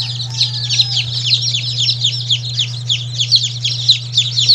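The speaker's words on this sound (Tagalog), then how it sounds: "Ang mga sisiw na ito no ay bali 58 head sila, at ito no yung mga idadagdag natin sa ating mga sisiw doon sa ating brooder." Baby chicks, part of a batch of 58 being added to a brooder on a poultry farm, chirp in a rapid, continuous chorus of high peeps, close and steady, over a constant low hum with no talking.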